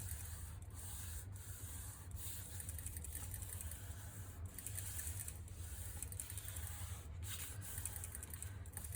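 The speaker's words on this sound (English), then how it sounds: "we're going to give it a good finger burnish" A finger rubs firmly across a freshly covered legal pad cover, giving a steady, close, continuous dry rubbing and sanding-like scrape with a faint low hum underneath and no voices.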